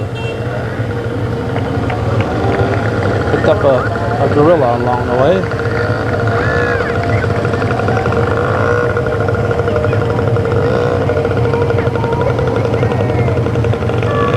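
ATV club vehicles of the Outback Riders ATV Club roll past in a small-town parade at Lyon Mountain, a steady low engine drone holding throughout with a brief warbling tone midway, while a commentator talks over it.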